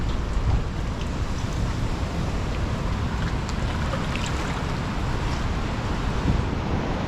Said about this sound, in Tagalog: Lakas ng hangin, sumabay pa yung taas ng tubig.